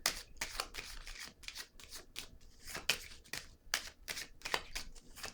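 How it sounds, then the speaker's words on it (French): A card is drawn from a deck amid quick papery flicks, slides and rustles, close and quiet, with no talking. "Je vais piger une autre carte."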